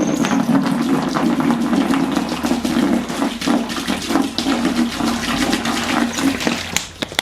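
Water poured into a container before mixing sprayed cork coating, a loud continuous rushing pour that tapers off near the end.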